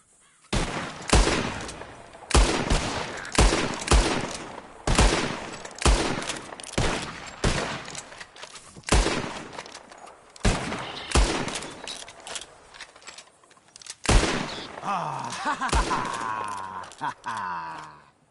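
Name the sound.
gunshots shooting at flying birds in the video game Red Dead Redemption 2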